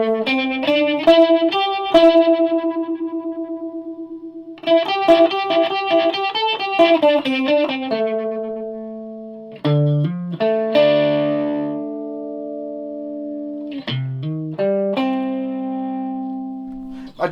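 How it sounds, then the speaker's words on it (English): Electric guitar with distortion played through an Ibanez STT-810 stereo pedal, loud and alone: chopped chords and single notes with a crunchy, buzzing tone, sustained ringing passages, and a warbling stereo modulation on some notes. "try a wee bit of distortion. Jolly old British sound."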